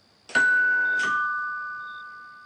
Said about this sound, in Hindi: सिमरन ने डोरबेल बजाई।